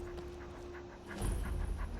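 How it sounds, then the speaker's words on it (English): A shaggy dog from the Pets of Skyrim mod in the Skyrim video game pants in short, rhythmic breaths that grow louder and closer partway through, with no talking. "Aw, shaggy dog."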